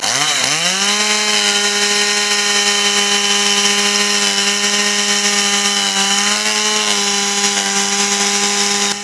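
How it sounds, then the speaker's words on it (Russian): A chainsaw cuts lines into river ice for an ice-fishing crackdown, starting up then holding a steady, loud, close whine with sustained harmonic drone throughout, no voices. "Юрьевецкая резня бензопилой. Это называется распиловка льда."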